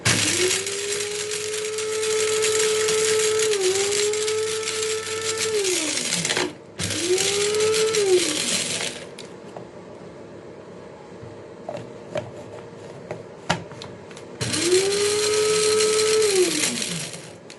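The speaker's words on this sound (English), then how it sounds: "I'm going to grind everything. So I'll be grinding everything one by one till I finish grinding it." An electric grinder whirs through facial scrub ingredients in three loud, steady motor bursts, two early and one near the end, with a quieter gap of small clicks and taps between them.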